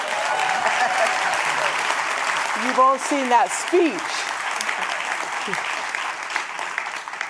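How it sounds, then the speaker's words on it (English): An audience at an International Women's Day conversation event claps steadily throughout, a dense wash of applause while a speaker talks over it. "So how does it feel to still be clapped for that?"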